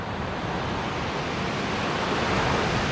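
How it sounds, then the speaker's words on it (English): Big summer surf breaking steadily on New Smyrna Beach, Florida, a loud continuous roar of crashing waves and wash filling the whole stretch, with no voices. "The surf is a lot bigger than the last trip and is pretty big for the summertime in Florida"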